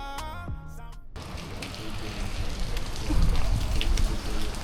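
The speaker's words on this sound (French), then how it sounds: "là il pleut" Steady rain patters and hisses across a surface, growing slightly heavier, after a brief burst of music at the start.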